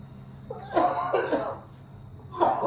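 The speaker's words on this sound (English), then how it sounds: "The two cameramen are coughing" Two bursts of harsh coughing close by, with a brief pause between them and steady low background hum throughout.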